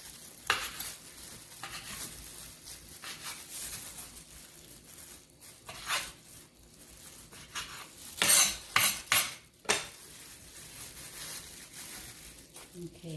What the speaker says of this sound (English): let me chop up the rest